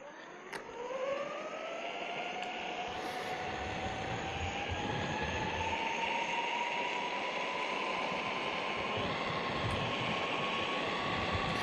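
MEEPO Rover electric skateboard with stock 6-inch wheels and 55T pulleys climbing a steep hill in S+ mode, a steady motor whine rising in pitch as it spins up and then holding level, with rolling wheel noise beneath and no talk.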